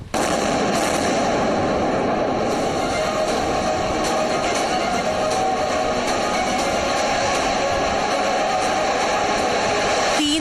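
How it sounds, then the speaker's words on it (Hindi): Blasts from an air strike on Gaza: a dense, continuous roar punctured by repeated sharp cracking bursts at irregular intervals, loud and sustained throughout without speech. "तीसरा धमाका।"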